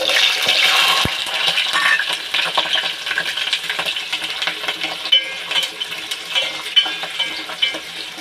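Sliced onions hit hot oil already seasoned with fenugreek seeds and mustard seeds, bursting into a loud bright sizzle that settles into steady crackling frying with scattered pops and light stirring.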